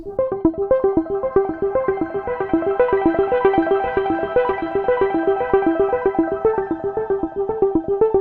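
A bright synth arpeggio repeats in a steady, fast pattern of plucked notes, its tone slowly opening and shimmering brighter as it continues, no voices.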